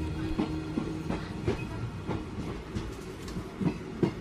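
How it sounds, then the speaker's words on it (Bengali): A train runs on rails, its wheels giving a near, steady clickety-clack of regular beats over a continuous rumbling hum. "অ্যান্ডারসন দিগুভা মুট্টা গ্রামী ট্রেনে চেপে বসলেন"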